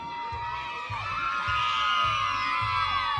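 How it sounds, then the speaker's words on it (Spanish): A crowd of children and adults cheers, shouts and whoops loudly at an outdoor Children's Day contest in Jacaleapa, El Paraíso, rising in excited bursts for the first competing couple, with a high whistle cutting through. "aplauso para la pareja número 1"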